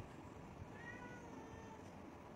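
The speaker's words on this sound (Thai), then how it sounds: "เป็นเสียงน้องแมวที่บ้านนะคะ" A pet cat meows once, a drawn-out faint call in the middle of a quiet indoor room with low background hiss and no talking.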